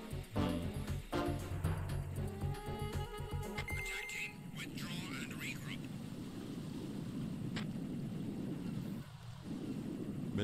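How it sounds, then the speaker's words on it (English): Helicopter in the Metal Gear Solid 2 video game, a steady rotor and engine drone that takes over midway after music with tinkling tones, holding at moderate level to the end. "that damn helicopter."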